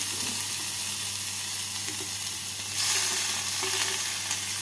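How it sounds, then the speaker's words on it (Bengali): Tomato is stirred into fried potatoes and eggplant in a hot pan, with a dense, continuous sizzle of frying and a brief swell as the pieces are turned. No one speaks. "টমেটোটাকে আলু আর বেগুনের সাথে নাড়াচাড়া করে নিচ্ছি"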